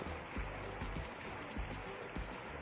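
Hot water pours into a pot of spicy Maharashtrian village-style chicken curry, giving a faint, steady splashing trickle with soft bubbling pulses.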